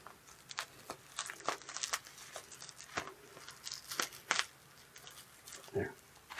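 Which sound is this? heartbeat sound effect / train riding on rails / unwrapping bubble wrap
unwrapping bubble wrap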